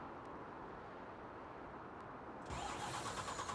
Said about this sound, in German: Wir fahren jetzt hier den LKW ausladen.